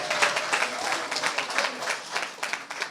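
An audience at a meeting applauds, steady dense clapping of many hands that rises and falls in small swells for about three seconds, fairly loud and close.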